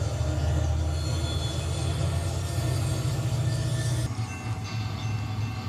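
A train led by SD40-2 locomotives moves in a railroad simulator game, producing a steady, heavy low rumble with rhythmic clatter that drops off somewhat near the end, with no talking.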